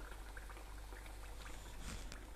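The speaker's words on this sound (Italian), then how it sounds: "Io lascio qua a friggere." Food frying in a pan in a home kitchen while Calabrian turdiddri are being made, a faint, steady sizzle and bubbling hiss with small pops, no voices.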